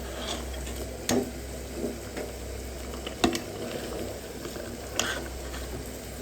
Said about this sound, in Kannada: ಇದು ಸುಕ್ಕದ ನೀರು ಪೂರ ಡ್ರೈ ಆಗಬೇಕು, ಅಲ್ಲಿವರೆಗೂ ಕುದಿಸ್ಬೇಕು